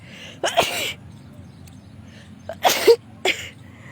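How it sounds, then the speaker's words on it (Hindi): A woman sneezes twice indoors, each a sharp breathy burst close to the microphone, with a short sniff or catch after the second, over a quiet room. "देखो मुझे छींक आने वाली"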